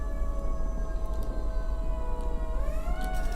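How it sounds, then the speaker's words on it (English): A distant siren wails faintly over steady background hum, its tone rising near the end. "I was hearing a siren outside."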